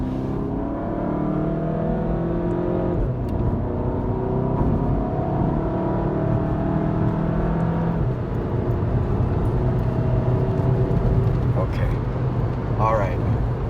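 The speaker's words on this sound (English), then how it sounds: "Let's see if I could rev up higher." A Volkswagen GTI MK7 engine drones and climbs steadily while driving in stop-and-go traffic, with the revs rising in a continuous in-cabin hum and a person speaking briefly toward the end.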